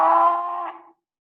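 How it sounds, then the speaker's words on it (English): A cow gives one short, loud moo close by, lasting under a second, with nothing else audible. "A cow moos."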